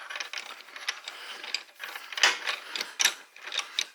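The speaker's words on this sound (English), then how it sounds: "My old Craftsman ratchet here's about had it" Worn old Craftsman ratchet working on a Honda minibike, rapid bursts of close metallic clicking that come in uneven runs with brief pauses.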